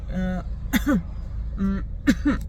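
A woman demonstrates the cough she developed as an early lung cancer symptom: a short voiced throat sound followed by two quick, harsh cough bursts, repeated twice in close succession, near and fairly loud.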